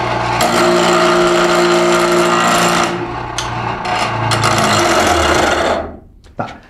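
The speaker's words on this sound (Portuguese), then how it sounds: "determinar o teor de carbono do aço através da forma da centelha que o material emite ao ser atritado num esmeril" A piece of steel is pressed against a spinning bench grinder for a spark test, making a loud, steady grinding whir close by for several seconds, then trailing off as the metal is pulled away, with a short clatter at the end.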